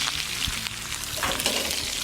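Food frying in a pan, a continuous crackling sizzle with scattered pops and stirring noises, fairly close and without talk.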